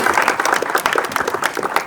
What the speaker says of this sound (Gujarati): પ્રભુ મને જોરદાર તાળી થઈ જાય.